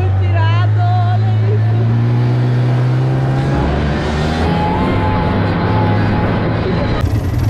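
A snowmobile engine drones and revs steadily while riding over snow near Ushuaia, close and loud, with a wobbling tone that shifts as the throttle changes.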